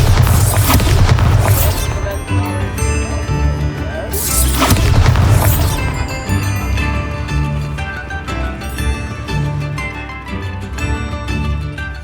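Bombarda spell explosions in Hogwarts Legacy: two heavy, booming blasts a few seconds apart, loud and close, each with a crashing burst and a rumbling tail, set over continuous orchestral game music.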